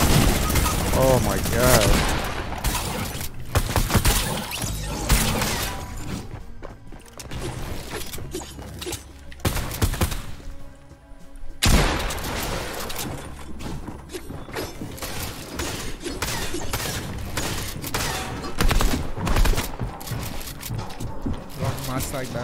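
Sustained minigun fire in Fortnite Battle Royale, a dense, loud rattling burst that runs almost nonstop with brief gaps amid other game gunfire, while a player's voice talks over it.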